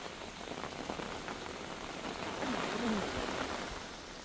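Heavy monsoon rain falling on surfaces in Gujarat, a constant hiss with scattered drops, faint and distant-sounding.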